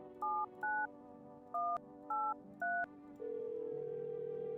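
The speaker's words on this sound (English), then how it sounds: "I'm calling him right now." Phone in a video game dialing a number: five short touch-tone beeps in an uneven rhythm, then a steady ringing tone follows, with no talk over it.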